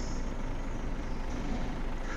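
A truck engine rumbling steadily in World Truck Driving Simulator, a constant low drone with a faint high hiss, no talking over it.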